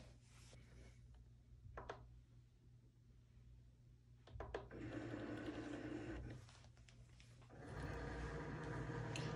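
A Cricut cutting machine draws a calibration sheet on its mat inside, giving a close, steady mechanical whir and hum with brief clicks, pausing and then resuming louder toward the end.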